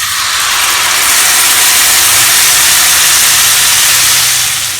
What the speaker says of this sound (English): in this pan now I'm going to add these blended tomatoes